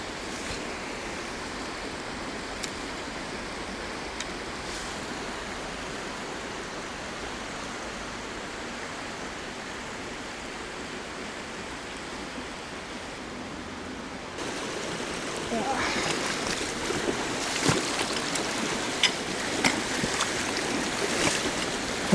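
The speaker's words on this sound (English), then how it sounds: "the river's a lot narrower here, so there's a lot more flow to it" Narrow, fast-flowing river in snowy grayling country, a steady broadband rush of water throughout, growing louder and brighter partway through as if stepping closer to the current.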